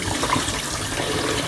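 Tap water running into a pot while ribs are rinsed, a brief, moderate, steady splashing rush close by.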